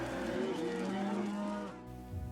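Several cows low and moo in overlapping, mournful calls that swell and then fade away, close and loud, with no speech.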